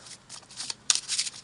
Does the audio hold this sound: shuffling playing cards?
yes